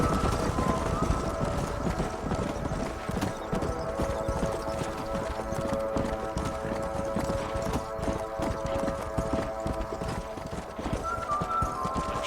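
Horse hooves clip-clop steadily through a Red Dead Redemption herding sequence as several horses gallop toward a canyon, a dense continuous pounding with an occasional neigh over a sustained musical drone.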